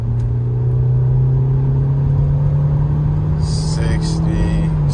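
A 2021 Chevy Camaro SS V8 accelerating on the road, heard from inside as a loud, steady engine drone that rises in pitch as it pulls, with brief higher sounds near the end.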